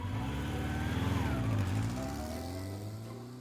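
A car engine revs hard in a children's puppet comedy, its steady roar rising and falling in pitch as the throttle is floored, loud and continuous throughout with no talking.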